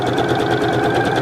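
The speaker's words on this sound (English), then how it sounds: "So I'm going to stitch that piece." Sewing machine stitching fabric face mask pieces, a loud, close, steady rapid whirring hum of the needle mechanism running continuously without talk.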